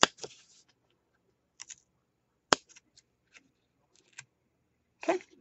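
Scissors snipping paper for a handmade wallet mini album, a few short crisp cuts spaced apart in a quiet room, close and soft.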